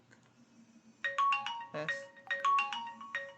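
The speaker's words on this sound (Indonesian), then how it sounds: "Bentar, ada telepon." A phone plays a melodic ringtone for an incoming call, loud and close, in repeated bursts of bright chiming notes during a maths lecture, with a brief spoken word at the start.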